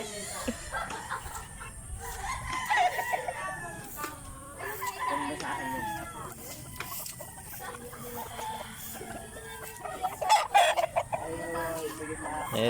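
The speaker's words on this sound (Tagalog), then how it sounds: "Ito, maraming manok na mapipili rito." Roosters crow and chickens cluck among a flock of fowl, with repeated calls overlapping in the near distance and people talking throughout.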